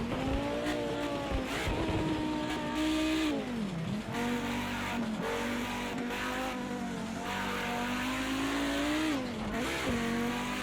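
An Audi Group B Quattro race car in a PC2 sim racing game at Bathurst, its engine loud and continuous with rising and falling revs, a few abrupt drops and stumbles marking rough gear changes.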